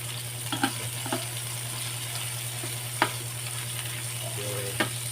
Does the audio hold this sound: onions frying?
yes